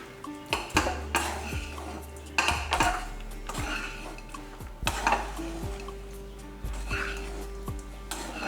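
A metal spoon stirs and scrapes cooked coriander rice in a cooking pot, giving repeated clinks and knocks against the pot at an irregular rhythm, close and moderately loud, with faint background sound.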